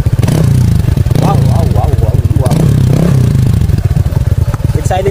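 A Honda ADV150 scooter fitted with an Akrapovic Tri-Oval muffler, black carbon tip and silencer, revs loudly up close in repeated throttle blips over a throaty idle, with people talking around it.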